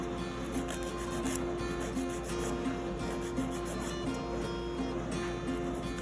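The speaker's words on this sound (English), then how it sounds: "I'm just trimming the length off right now" Nail clippers or a file trimming the length off a short pointer fingernail, a steady close rasping rub that runs on without a break, with no talking.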